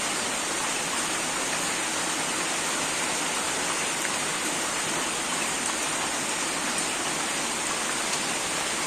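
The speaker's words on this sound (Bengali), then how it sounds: "প্রচুর বৃষ্টি হলো, আরো বৃষ্টি হবো না?" Heavy rain pours down in a village, a dense, steady hiss of water striking surfaces that stays loud and unbroken from start to finish, with no voices.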